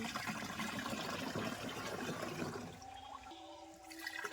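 Water pours from a mug into a toilet bowl, a close, splashing gush that runs for a few seconds before thinning into a quieter trickle.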